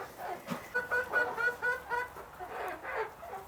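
Several chickens cluck and chatter in quick, overlapping calls, fairly close, with a few sharper, higher squawks mixed in.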